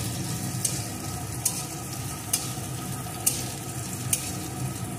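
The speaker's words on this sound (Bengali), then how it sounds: "এখন প্রথমে এর ভিতরে পেঁয়াজ কুচিটা দিয়ে দেব। পেঁয়াজ কুচিটা একটু ভেজে নেব।" Chopped onion frying in hot mustard oil in a pan gives a steady, close sizzle, with a few sharp stirring clicks at regular intervals.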